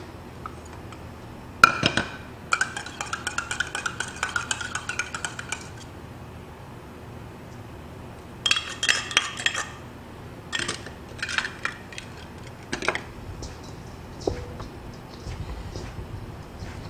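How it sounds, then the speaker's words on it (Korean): Water is worked by hand into rice flour in a bowl for a traditional Korean glutinous rice cake, producing intermittent bursts of gritty scraping and light clinking against the bowl, separated by quiet pauses. "자, 골고루 물을 섞어줍니다."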